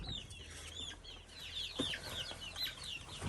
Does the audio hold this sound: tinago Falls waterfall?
no